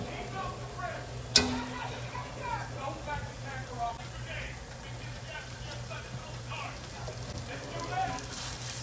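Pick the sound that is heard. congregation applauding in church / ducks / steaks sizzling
steaks sizzling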